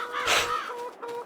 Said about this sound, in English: They're not mine. They're crows.